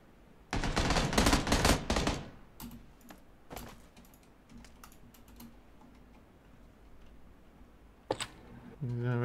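Bursts of gunfire in the PUBG battle royale game: a loud rapid volley, then scattered single shots and a late burst, with quiet ambience between.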